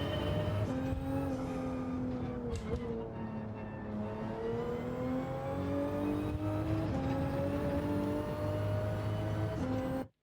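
A race car engine drones steadily in a racing video game, rising and falling through gear changes and revs, loud and close with no talking, ending with a sudden cutoff.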